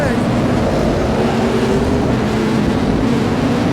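Super sedan race car at Charlton Raceway during a national title race, a loud sustained engine drone with a steady rising and falling pitch, heard close and continuous under a commentator's voice.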